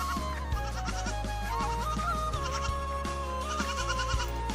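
A goat bleats repeatedly in a forested rural area, its wavering, nasal cries loud and close over a low steady background hum.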